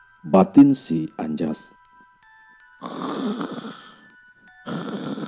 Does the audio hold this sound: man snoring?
yes